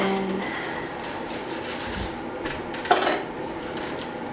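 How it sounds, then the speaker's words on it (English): Pasta being stirred in a pot in a home kitchen, with soft clinks and scrapes of utensil against cookware over steady background hiss and one sharper knock near the end. "Just stirring up the pasta."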